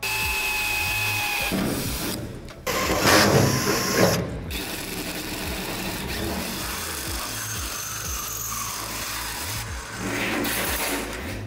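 A small power drill with a 2 mm bit whirs steadily, boring a pilot hole in a van's metal body panel with a continuous buzzing grind that briefly rises and dips in pitch.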